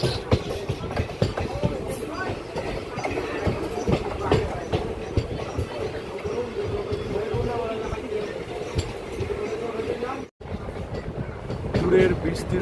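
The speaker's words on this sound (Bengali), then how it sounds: "দূরের বিস্তীর্ণ জমিকে সাক্ষী রেখে আমাদের ট্রেন ধীরে ধীরে এগিয়ে চলেছে আমাদের গন্তব্য বেলাকোবার দিকে।" A passenger train rolls slowly along the Belakoba rail line past open fields, giving a steady loud rumble with rhythmic wheel clatter from inside the carriage and a brief dropout near the end.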